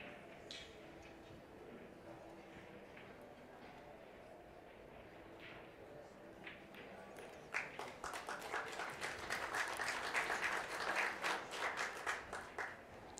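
A crowd applauds at a professional mixed doubles pool match, starting faintly under a commentator's voice and then swelling into louder, fuller clapping that continues to the end.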